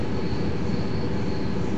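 Ishinomaki Line train running between Watanoha and Ishinomaki, heard from inside as a steady, loud rolling rumble of wheels on track with a faint high whine, continuous throughout.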